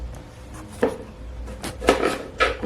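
A knife taps sharply against a cutting board a few times at an uneven pace as tomatoes are chopped, close by, with no talking.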